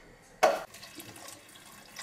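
Water poured into a pot of Tripoli-style gnocchi (nukides) with salt: a brief, loud splash of pouring lasting a fraction of a second, followed by faint kitchen clatter and trickles.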